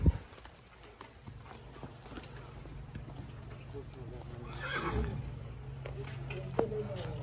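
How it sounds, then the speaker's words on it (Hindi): Horses clop on the ground as they are led out of a stable, a few hoof strikes under ongoing background noise and a swell of movement midway, with no clear talk. "उससे पहले हम ये जो घोड़े हैं इनको बाहर निकाल लें"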